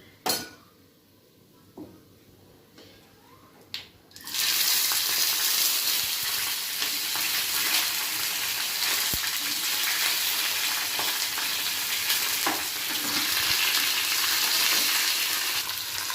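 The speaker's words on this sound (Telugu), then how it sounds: "జీలకర్ర కొంచెం వేగాక మనం పచ్చిమిర్చి వేసుకున్నామండి ఇందులో" Cumin seeds and green chillies for tomato chutney hit hot oil in a pan, bursting into loud, continuous sizzling after a few quiet utensil clinks, with occasional stirring scrapes.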